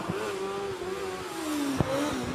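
A 600cc Jedi hillclimb race car with a Honda motorcycle engine howls at high revs on the Prescott hill, its steady tone sagging slightly then climbing again, with a brief sharp knock near the end.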